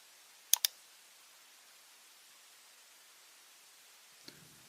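A computer mouse gives two quick, crisp clicks in close succession over faint background hiss, followed by a quiet stretch and a soft tap near the end.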